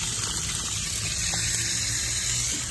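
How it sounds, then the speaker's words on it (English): Water gushes steadily from a tap or hose while greenhouse hoya plants are watered, a continuous rushing splash with no speech. "These plants need water too."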